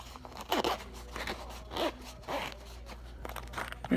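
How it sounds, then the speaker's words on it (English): A zipper runs along a small fabric carrying case for a fidget spinner, several quick rasping pulls in short bursts, close and fairly loud with no talking. "then you just zip it up"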